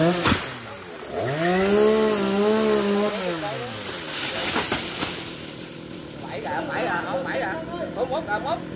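A chainsaw cuts into a 70-year-old coconut tree in Tien Giang, its engine note rising and falling as the blade bites, with voices talking over it and rustling near the end.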